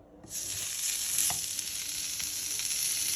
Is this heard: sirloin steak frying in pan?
yes